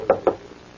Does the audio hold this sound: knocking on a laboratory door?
yes